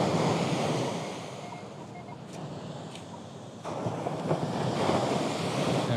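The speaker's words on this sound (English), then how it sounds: "these waves are kind of tumbling" Ocean surf at Laguna Beach rolls and breaks continuously nearby, a broad steady roar with wind buffeting the microphone and a swell in loudness partway through.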